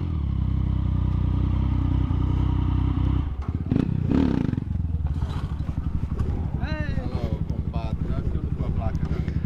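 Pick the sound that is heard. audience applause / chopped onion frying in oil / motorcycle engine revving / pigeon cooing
motorcycle engine revving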